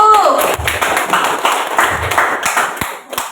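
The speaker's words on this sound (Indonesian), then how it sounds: "Sekali lagi tepuk tangan yang meriah" Applause from an audience at a village meeting on social forestry funding in Sungai Penoban runs steadily through the clip, with a speaking voice heard over the clapping at the start.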